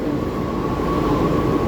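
A Delhi Metro train gives a steady, loud rumble with a sustained tonal whine, heard from close by and continuous throughout without talk.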